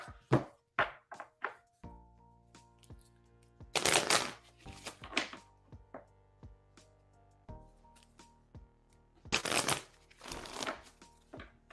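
Several crisp riffling bursts of tarot cards being shuffled, separated by pauses and soft taps, with a low hum underneath.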